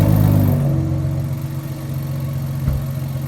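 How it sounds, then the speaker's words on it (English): Ford F-150 Raptor idling with a loose exhaust actuator, a loud steady low rumble with light metallic rattling mixed in, close by, plus a brief bump near the end. "Y'all hear that rattle?"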